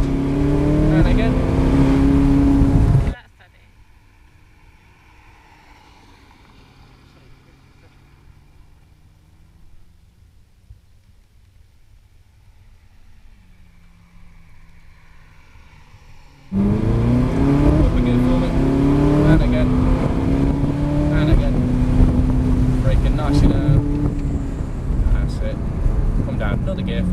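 A Ferrari California on a driving experience, its engine loud and close as it revs up through the gears, then dropping to a quiet low hum for several seconds before surging back to a strong, rising roar.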